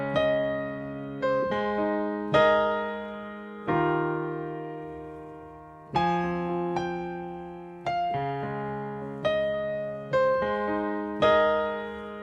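Solo piano plays the high line chorus of a song, struck chords sounding out in a steady rhythm and ringing between attacks, loud and close with no voice.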